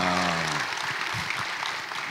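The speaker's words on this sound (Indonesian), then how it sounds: "Tepuk tangan" Audience applause at a public event in Indonesia, a steady wash of clapping following a brief spoken introduction, moderately loud and sustained throughout.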